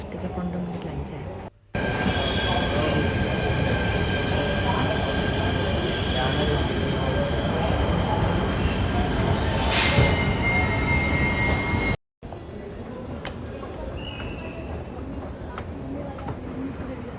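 A crowded Delhi Metro train runs at office rush hour, heard from inside as a loud continuous rumble with wheel squeal and a brief high hiss, broken by two short cuts, with occasional talking.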